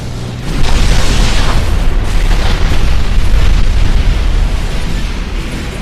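A destroyed enemy explodes in the video game Armored Core 4: a loud, sustained, rumbling blast with crackling debris that holds strong for several seconds, with no voices over it.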